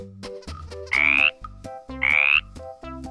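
Cartoon frogs croak in two loud, rising bursts about a second apart over a bouncy background music track, with no talking.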